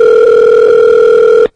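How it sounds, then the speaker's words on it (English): A loud, steady telephone dial tone hums continuously at close range as a phone call is placed, then cuts off abruptly. "right now I'm going to make the phone call to Hagen's right now"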